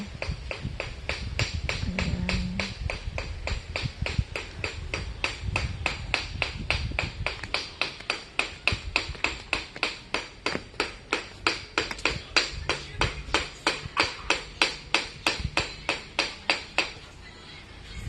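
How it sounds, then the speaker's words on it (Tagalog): Steady, rhythmic hammer strikes on lead ring out, metallic and sharp, repeating quickly and evenly over many seconds with faint background noise. "Anong pinupukpok mo dyan, Kuya Wilson?"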